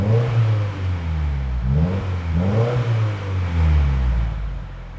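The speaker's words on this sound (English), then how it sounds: "it now has a much deeper tone. It is quite bassy" A 2015-21 Subaru WRX with an MXP COMP RS catback exhaust revs repeatedly from idle, each blip rising to a deep, bassy roar and falling back, loud and close with no talking.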